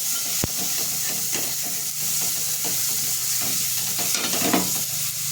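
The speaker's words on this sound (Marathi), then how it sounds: "इथे 2 चमचा मी आगरी मसाला टाकून घेते आणि आपल्याला तेलावरती छान परतून घ्यायचं." Turmeric and Agri masala sauté in hot oil, giving a steady, close sizzle with scraping stirs and one sharp clack near the start.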